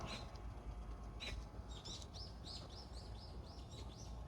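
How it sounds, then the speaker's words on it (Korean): Faint, high bird chirps repeat in a quick series over a soft, steady outdoor hiss, distant and quiet, in a city park in spring during cherry blossom season. "새소리도 들리는 게"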